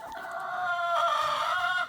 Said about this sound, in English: The chickens are making sure Wayne's doing a good job.